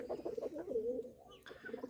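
Soft, low pigeon cooing in a rolling, throaty series of phrases, close by, with a brief faint chirp near the end.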